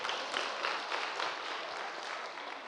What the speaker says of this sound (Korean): 100명. 박수 치고.